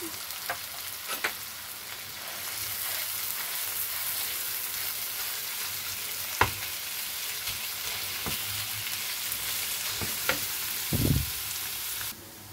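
Ground meat for a stuffed eggplant filling frying in a pan, a steady close sizzle with occasional clicks and stirring knocks and one brief scrape near the end.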